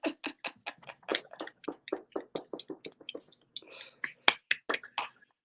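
A person clapping close by, with a quick, irregular run of sharp, crisp hand claps and brief pauses between bursts.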